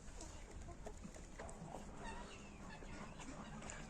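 Chickens cluck in a farmyard coop, a steady close flock of soft clucks and occasional brighter calls over continuous low background noise, with no talking.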